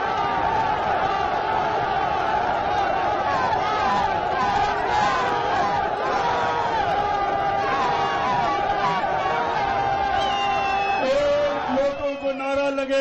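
A large crowd at a PTI political rally in Abbottabad chants slogans in loud, rhythmic unison, the massed voices rising and falling steadily with a brief swell near the end.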